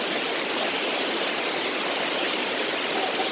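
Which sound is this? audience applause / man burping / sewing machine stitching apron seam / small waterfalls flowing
small waterfalls flowing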